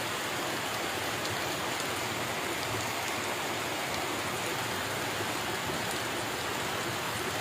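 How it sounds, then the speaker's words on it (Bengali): Heavy rain pours down on a rainy day, a dense, unbroken hiss of drops hitting surfaces, steady and close with no voices. "সুন্দর একটি বৃষ্টি দেখতে পাচ্ছি আমরা।"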